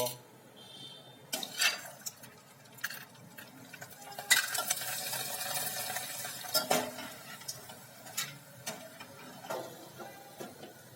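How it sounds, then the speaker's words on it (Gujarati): Quiet frying of bhungla snack tubes in oil, with intermittent stirring, scraping and clinking of utensils against the pot, some louder clatters scattered throughout. "ભૂંગળા આપણે તળીને તૈયાર કરી રહ્યા છીએ"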